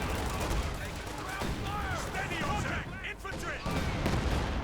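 Company of Heroes 2 battle gunfire crackles in dense, overlapping bursts of rifle and machine-gun shots against a loud, noisy combat backdrop, with a brief dip in the middle.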